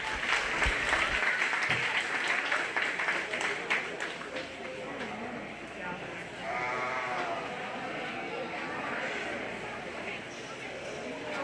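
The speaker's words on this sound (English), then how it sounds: "give her a big round of applause" An audience at a 4-H/FFA sheep and lamb show gives a round of applause, steady clapping mixed with nearby sheep bleating and some talking.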